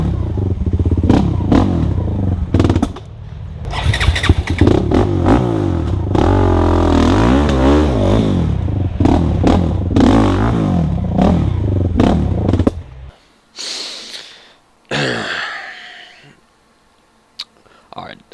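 A quad ATV engine revs and roars loudly while racing, steady and close for most of the run, then drops away into brief bursts with gaps near the end.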